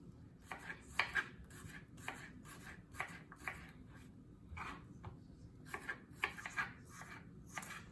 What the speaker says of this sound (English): and then you wanna remove the seeds